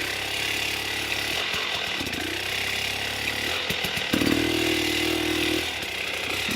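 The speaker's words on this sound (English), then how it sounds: "Listen to that bike." An enduro motorcycle engine held in the clutch friction zone drones loudly and close by, with a steady buzzing idle that surges and dips, rising in pitch for a stretch near the middle, with no voices.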